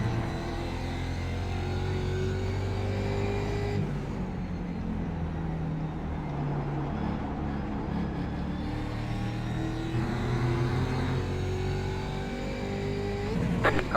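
Race car engines droning steadily in the iRacing sim at Mid-Ohio, one car passing with shifting pitch, loud and continuous throughout.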